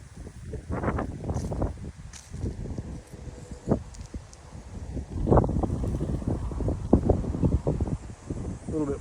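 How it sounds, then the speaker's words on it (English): Gusty wind buffets the microphone outside a full log home near Fife Lake, Michigan, rumbling low and uneven in surges that rise and fall over several seconds. "A little bit windy out here today."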